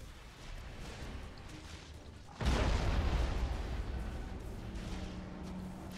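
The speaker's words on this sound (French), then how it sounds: "Boum! Petite explosion de sport des familles." A sudden deep boom in a space battle in Battlefleet Gothic Armada II, striking partway through and rolling into a sustained low rumble over constant background noise.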